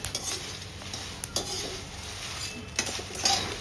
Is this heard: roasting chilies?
yes